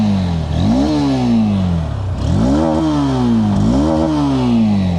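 A 2026 Honda NX 200 motorcycle rides along with a steady, moderately loud exhaust note. Its engine pitch rises and falls in repeated sweeps as it accelerates and shifts gears, with no voices over it.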